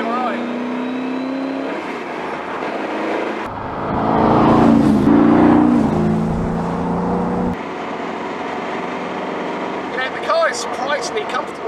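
A Superformance Shelby Daytona Coupe with a 6.7 litre Roush engine drives along, its loud steady drone swelling into a harder rev midway before settling back to a cruising hum, with a voice speaking over it.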